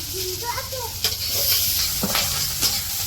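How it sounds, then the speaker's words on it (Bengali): Onions and green chillies hit hot oil in a village kitchen wok and sizzle steadily and loudly, with occasional stirring scrapes; a voice is briefly heard at the start. "এই যে কড়াইয়ে তেল দিয়ে দিল, এখন পেঁয়াজ আর কাঁচামরিচ দিয়ে দিব"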